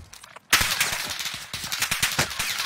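Gunfire in a Call of Duty Warzone match: after a brief lull, a loud burst of rapid automatic shots rattles out and continues in quick, close repeating cracks to the end.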